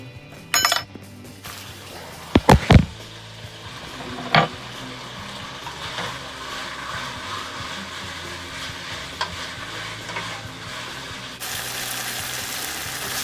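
Beef frying in hot oil in a pan, a steady sizzle running throughout with a few sharp clinks and scrapes near the start, no talking.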